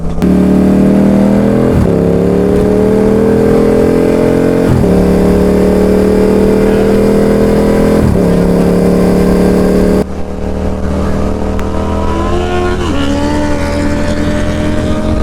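Honda CBR650R and Yamaha MT07 motorcycles roar loudly and continuously, the engine pitch climbing through repeated gear changes before a different-sounding bike takes over with a rougher, higher drone.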